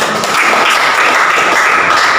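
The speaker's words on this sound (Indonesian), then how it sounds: "Tepuk tangan untuk kelompok" Students in a classroom applaud their classmates' group: loud, close, rapid clapping from many hands that forms a steady, unbroken patter throughout.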